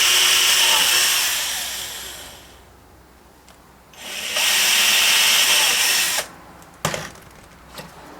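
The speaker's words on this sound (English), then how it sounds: "So we'll pre-drill this now" A power drill pre-drilling holes in a wooden buttering board: two sustained, close bursts of whirring drilling separated by a short pause, followed by a few clicks and knocks.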